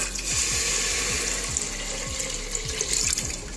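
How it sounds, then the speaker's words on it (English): Water gushes steadily into a pressure cooker holding a biscuit cake mold, a close, continuous splashing pour with a gurgling, rhythmic bubbling underneath and no talking. "now we are going to add 2 glasses of water"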